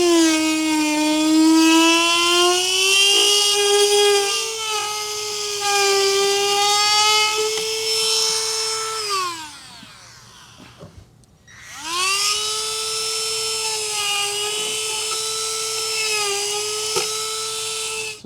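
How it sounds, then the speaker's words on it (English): A pointed-tip die grinder cuts carpet lining out of a new motorcycle saddlebag, giving a loud, steady high-pitched whine that drops off briefly as the tool slows, then spins back up to full speed alone. "we'll use this little pointed tip, die grinder. It does a good job cutting the carpet and not catching it and spinning it all around"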